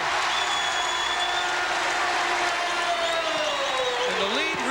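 Basketball crowd at the Curry Hicks Cage during a UMass game applauding and cheering in a steady, loud, enveloping roar, with a commentator talking over it.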